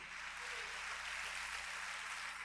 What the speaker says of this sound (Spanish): Dele un fuerte aplauso a Jesucristo